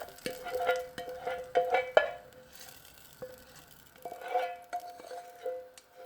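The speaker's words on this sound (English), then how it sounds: "I'm scraping to make sure everything that I put in there is in the pot for the Gnut sauce." A spoon scrapes fried onions, tomatoes and carrots into a pot of Ugandan groundnut sauce. Several bursts of scraping and clinking on metal come close together, with a light sizzle and short quiet gaps between them.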